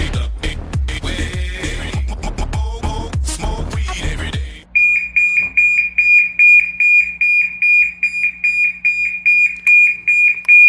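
A loud, piercing smoke alarm beeps in a steady rapid pulse after a burst of loud music, continuing alone and close by.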